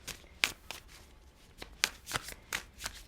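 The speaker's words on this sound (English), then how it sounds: "Let's shuffle and pull the last 3." Tarot cards being shuffled by hand in a series of quick, crisp riffling bursts with short pauses between them, close and fairly quiet, with no talking.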